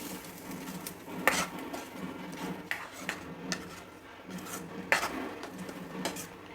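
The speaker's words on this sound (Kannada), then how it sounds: "ಮಸಾಲೆನೂ ಕಾಳನ್ನು ಎರಡೂ ಸೇರಿಸಿ ಸ್ವಲ್ಪ ಹೊತ್ತು ಹುರಿಬೇಕು." Spice masala and field beans being roasted and stirred in a pan, with scattered metallic scrapes and clinks of a spoon against the pan at irregular intervals, fairly quiet and without talk.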